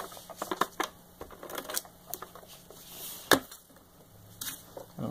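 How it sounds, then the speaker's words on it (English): Adhesive tape is pulled and pressed onto a paper border piece for a handmade birthday card, heard as close, irregular crackles, taps and rustles with one sharper snap near the end. "now I'm just going to add tape to it"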